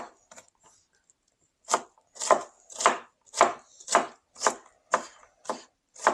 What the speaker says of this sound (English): This is nothing more than just getting it cut up.